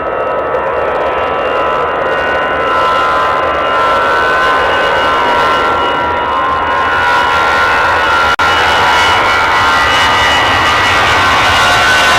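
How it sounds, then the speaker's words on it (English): An Airbus A321 jet at Edinburgh Airport gives off a loud, sustained engine roar with a steady whine, continuous and close throughout, with no voices. "the lofty A321 is moving"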